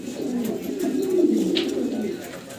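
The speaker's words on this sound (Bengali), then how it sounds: "বাহ মাশাআল্লাহ চমৎকার ডাকতেছে। ইন্ডিয়ান কাকজি।" An Indian Kakji pigeon coos in a low, steady murmur, close and continuous, with faint voices in the background.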